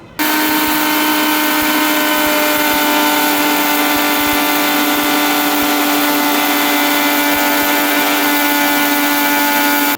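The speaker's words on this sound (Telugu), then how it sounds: "ఇప్పుడు మనము ఎండుమిర్చి ఉప్పు అని చెప్పాం కదండి ఇవి మిక్సీ పట్టేసుకున్నాం ఇప్పుడు" A mixer grinder grinds dry red chilies and salt, running loud and steady at high speed, a constant whirring drone from start to finish with no pauses or voices.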